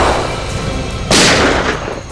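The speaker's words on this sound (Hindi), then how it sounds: "सर फायरिंग हो रही है" Gunfire cracks out in a tense nighttime encounter in a TV crime drama: a sharp loud burst roughly halfway through, rising over a rumbling background and then fading into a noisy tail.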